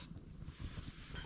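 Strong wind gusting around a cold forest campsite at night, a steady low rumble of buffeting air on the microphone with a few louder surges, no voices.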